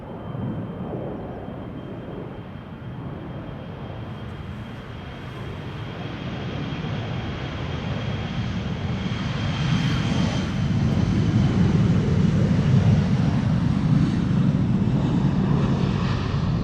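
A Boeing 737 jet approaching runway 06 at Schiphol Airport, Amsterdam, a steady distant rumble that slowly grows louder and fuller toward the end, with faint wind across the microphone.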